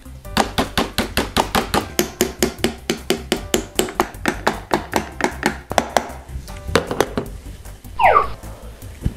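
Rapid, steady series of small hammer taps on metal during a car repair, roughly two to three blows per second for about eight seconds, close and sharp, ending with a brief scraping sound.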